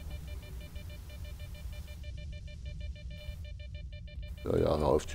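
Repeated electronic beeping from an anomaly detector in the video game S.T.A.L.K.E.R. Shadow of Chernobyl, a steady train of short pulses under game ambience, ending with a brief louder burst of noise.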